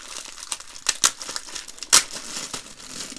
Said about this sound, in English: So let's undo the tape.